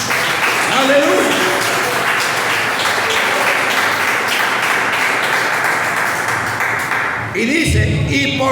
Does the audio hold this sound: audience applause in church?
yes